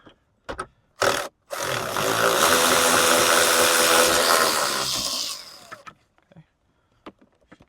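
A power driver with a 10 millimeter socket whirs steadily for several seconds, removing a headliner screw in a 2005-2007 Ford Escape, Mercury Mariner or Mazda Tribute, with a few handling clicks before and after.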